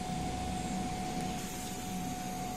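A DTF printer running a strong head cleaning cycle gives off a steady, moderately quiet mechanical whir with a faint constant tone and no pauses.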